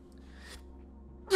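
A single sudden sneeze bursts out at the very end, loud and close, after a quiet stretch with only a faint low hum and a soft intake of breath.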